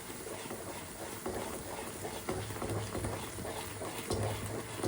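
An oil and ghee mixture is stirred without pause in a pan, giving a steady close scraping and soft sizzling patter with brief louder scrapes, no talking over it.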